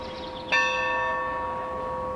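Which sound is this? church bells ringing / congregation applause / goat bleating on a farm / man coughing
church bells ringing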